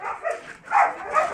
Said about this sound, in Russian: Вот это какая маленькие собачки.